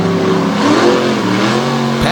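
Monster truck engine revving on dusty asphalt during a show, a loud rising and falling mechanical drone with tires struggling for grip, close and sustained.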